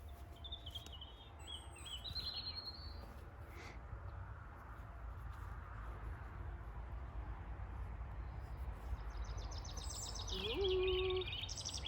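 Scattered chirps and short bird songs ring out at a distance over a low outdoor rumble in a UK garden on a summer afternoon, a brighter burst of calls near the end.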